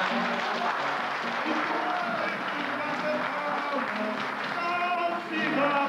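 A crowd claps and cheers for singers at a club in Lowell, Massachusetts, in a dense, sustained wash of applause, with voices and music mixed in underneath.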